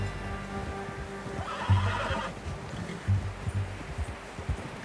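A horse in Red Dead Redemption 2 gives a soft whinny and snorts amid light hoof clops and rustling, fairly quiet and close, with no talk.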